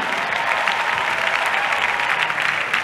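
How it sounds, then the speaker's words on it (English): A church congregation claps hands together in a dense, continuous burst of applause that stays loud and even throughout, with no voices standing out. "Clap your hands if you have to."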